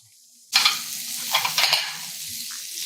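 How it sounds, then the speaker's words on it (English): Food for creamy seafood pasta hits a hot pot and sizzles loudly, a bright crackling hiss that keeps going with small pops and stirring scrapes, close by. "You see a little bit of sizzle."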